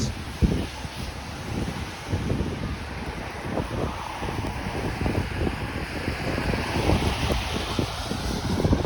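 Wind blows snow along a Toronto street on a snowy day, a steady broadband roar with gusty buffeting against the microphone that never lets up for about nine seconds, with no voices.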